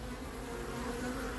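A huge honeybee colony in an open space hums steadily during a removal, its dense, continuous buzz holding close and even with no pauses.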